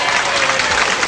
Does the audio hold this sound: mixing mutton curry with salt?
no